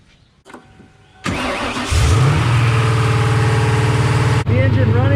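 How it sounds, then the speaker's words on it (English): A 1996 Ford Mustang running on a lightweight Braille battery cranks briefly, then catches and settles into a loud, steady idle close by, preceded by faint clicks. "I'm going to try and start the engine and see what it does."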